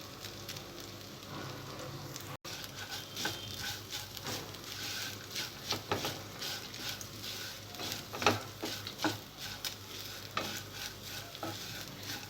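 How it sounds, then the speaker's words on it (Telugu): Freshly grated coconut fries with green chillies and curry leaves for coconut rice. A soft, fairly faint sizzle runs under repeated scraping stirs of a spatula, with small clicks of spoon against pan. "పచ్చిమిరపకాయలు కూడా ఫ్రై అయిన తర్వాత ఇందులో పచ్చి కొబ్బరి తురుము వేసుకోవాలి."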